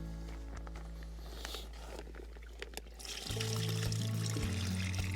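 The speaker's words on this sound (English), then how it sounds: "just tip all the water out. I'll just do it into this bucket." Dirty water tipped out of a Scrubba wash bag into a bucket at a campsite, first a quiet trickle and splash, then a heavier, steady pour close by.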